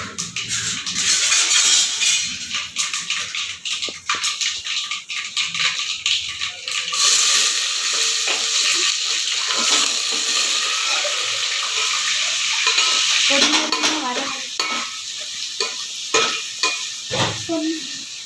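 Loud sizzling of chopped tomato and garlic frying in hot oil, with stirring and scraping sounds; the crackle surges and settles, with sharp clatters near the end.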